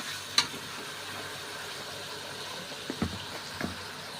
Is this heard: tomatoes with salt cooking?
yes